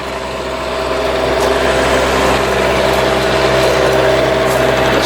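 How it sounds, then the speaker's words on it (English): A 2006 Country Coach Aspire 360 Class A diesel motorhome's 8 kW Onan diesel generator runs steadily, a loud, even drone that swells slightly in the first second and then holds constant throughout. "8 kW Onan diesel generator running right now."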